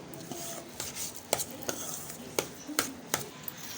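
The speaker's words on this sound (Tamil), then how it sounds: "சர்க்கரையோடு சேர்த்து மிக்ஸ் பண்ணி விட்டுப்போம்" Rice is mixed with butter and sugar for curd rice prasadam, a quiet sequence of spoon scrapes and sharp clinks against a bowl at an uneven pace, close and fairly faint.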